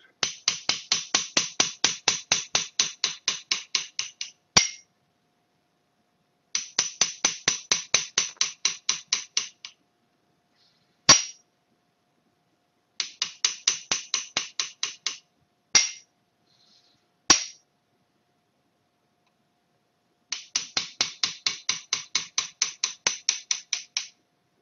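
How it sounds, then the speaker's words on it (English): A hand engraver's chisel is tapped with a small hammer to trim excess gold inlay, coming in quick even bursts of sharp metallic ticks separated by pauses and a few louder single strikes, close and quiet otherwise. "I'm going to take a white chisel and I'm going to remove that part which is sticking out"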